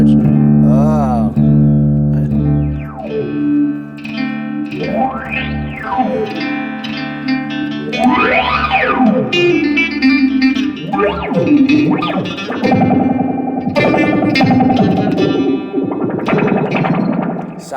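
Electric guitar through the Fender Waylon Jennings phaser pedal, sweeping swooshes rising and falling over sustained chords and riffs, loud, distorted and close.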